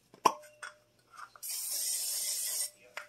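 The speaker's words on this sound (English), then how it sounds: "I'm just going to take your favorite butter spray" A short burst of butter-flavored cooking spray hisses into a Dutch oven for about a second, set between a few small clicks and knocks of handling the can in a kitchen.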